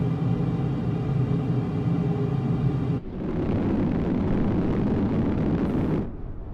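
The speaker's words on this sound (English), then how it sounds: "what you're hearing is the main engines literally shutting down" In Microsoft Flight Simulator, a Darkstar hypersonic jet roars with a steady loud engine rumble that drops off sharply as its main engines shut down, leaving a rougher windy rush that then fades.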